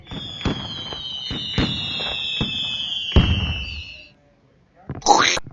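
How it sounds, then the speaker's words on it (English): Rainbow fireworks sound effect: a run of sharp bursts and crackles under a long whistling streak, then a brief gap and one last bright crackling pop at the end, loud and close. "The rainbow fireworks."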